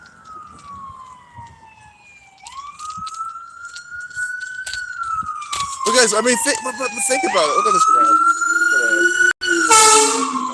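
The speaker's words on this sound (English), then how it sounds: "ambulance, fire truck 2 and 3, always making all the noise here" Wailing ambulance and fire truck sirens in Ohio rise and fall, growing louder as more join in, with someone talking over them.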